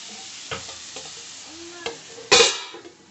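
A spoon stirs beetroot curry with onions in a pan, with soft scraping strokes, a few light knocks and a louder clatter near the end over a quiet sizzle.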